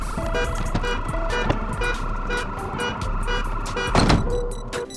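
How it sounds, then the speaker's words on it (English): A car alarm blares in the Project Zomboid video game, a steady looping electronic wail with repeated pulsing tones, loud and continuous throughout with no talk over it. "Starting to work on this car set off its alarm"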